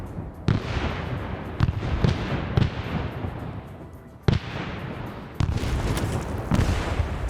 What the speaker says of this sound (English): Some grenades being thrown on this town here.